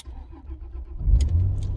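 A Rover 25 car engine runs at low idle, then grows louder and heavier partway through as the car pulls away, with a few faint clinks above the close, steady rumble.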